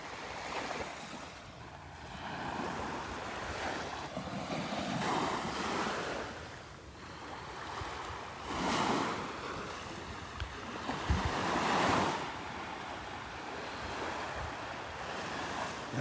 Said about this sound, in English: Not many waves this morning.